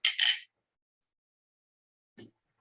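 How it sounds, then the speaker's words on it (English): Ice cubes dropping into a glass for a whiskey drink: a quick double clink at the start, then one short clink after a silent pause. "As I add ice"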